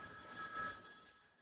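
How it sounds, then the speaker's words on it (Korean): A phone rings during a church sermon, a steady electronic ring with sustained tones fading after a moment, faint in a quiet room. "주님 앞에 전화 왔습니다."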